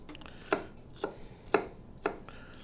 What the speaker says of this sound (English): keep dicing this up